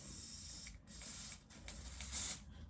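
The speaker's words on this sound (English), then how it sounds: "And I like to spray a little bit" Hair spray sprayed from an aerosol can onto a fingertip while finishing a wig install, heard as a few soft, close hissing bursts over a quiet room background.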